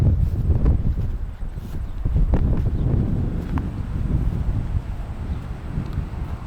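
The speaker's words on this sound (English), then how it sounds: "It's very windy here. It's cold wind coming from south here." Strong cold south wind at a lakeside scenic lookout on Lake Taupō, New Zealand, roars steadily across the microphone with low rumbling gusts and buffeting throughout, loud and continuous outdoors.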